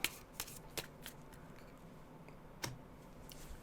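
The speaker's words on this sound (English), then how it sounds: "And we'll shuffle." A deck of squad cards for the Star Wars Clone Wars board game is shuffled in several quick riffling bursts, close and crisp, with short pauses and light taps between them.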